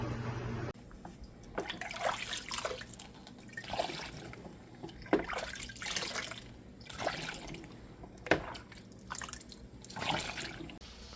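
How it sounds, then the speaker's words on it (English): Liquid pours and trickles into a jar: a quart of 100 proof liquor for a homemade honey liqueur, coming as several separate splashing pours with drips between them, close and fairly quiet. "Now I'm going to add my liquor. It's a quart of 100 proof liquor."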